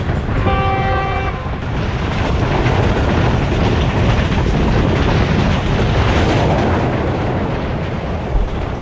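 The Tezgam Express passenger train, 8 Down with 19 carriages including an AC dining car, runs from Lahore to Multan with a loud, continuous rumble and roar of wheels on track, a brief horn at the start.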